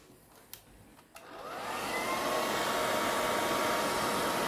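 A hair dryer clicks twice, then switches on and ramps up into a loud, steady, breathy whoosh of airflow that holds for the rest of the stretch.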